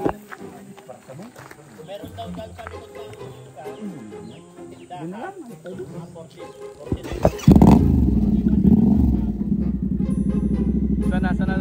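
A motorcycle starts up and revs partway through, its engine noise rising loud and steady after a stretch of chatter, with voices talking over the ride.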